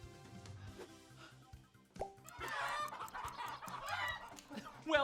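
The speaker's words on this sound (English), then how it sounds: "Chicken! I have to get you in the pen!" Chicken clucking in a video game side quest where a loose chicken must be herded into a pen, with quick repeated squawks and clucks building over a looping game soundtrack.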